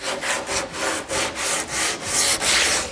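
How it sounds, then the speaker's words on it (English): Sandpaper cloth pulled by hand along a wooden 8-foot mini mal surfboard, giving steady rhythmic rasping strokes, close and fairly loud, about eight passes with no talking. "finishing it off is just some sandpaper cloth back so you can really pull on it"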